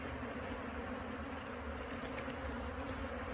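A mass of package honeybees swarms as they are shaken into a top bar hive, a faint, even, continuous buzz of many wings that carries on without a break and without speech.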